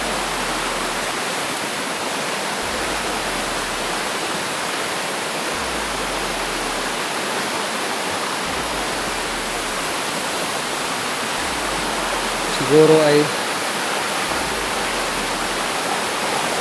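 A river flowing downhill near the mountain Balarang Bato: a broad, steady rush of water that stays constant and fairly loud throughout, with one short voice breaking in near the end.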